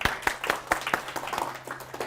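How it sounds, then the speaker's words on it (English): A small crowd at a weekend community event claps briefly, with distinct individual hand claps, fairly sparse and close. "So quick applause to Edge."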